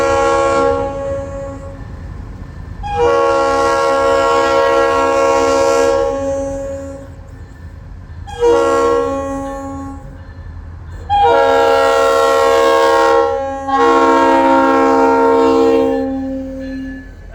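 A locomotive sounds its loud, chord-like horn while passing through a crossing and slowing down, giving a pattern of long and short blasts: two long, one short, then two long, with a low rail rumble beneath.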